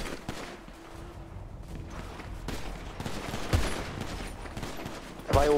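Gunfire in a video game shootout, with bursts of rapid shots and scattered single cracks crowding together at mid distance and swelling louder near the end.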